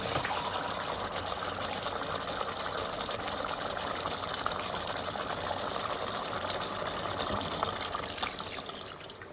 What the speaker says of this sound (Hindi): इसके अंदर पानी डाल देंगे